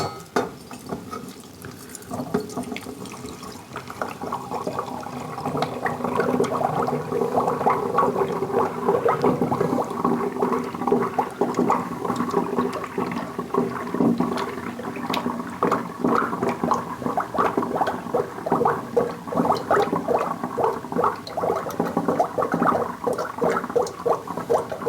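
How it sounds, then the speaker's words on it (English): Homemade eggnog poured from a container into another vessel, a steady liquid gurgle and splash that builds and continues for about twenty seconds, close and fairly loud with no talking. "I'm going to try to pour it in here now."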